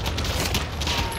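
Dense, continuous gunfire fills a short stretch of a shooter video game, a steady close roar of rapid shots with no clear gaps between them.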